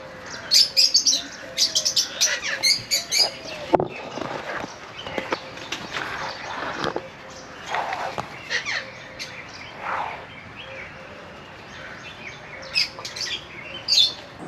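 Birds in the peacock section of a hidden zoo in Faisalabad: bright chirps and calls come in scattered bursts, near and fairly loud, with some clattering steps and handling noise in between.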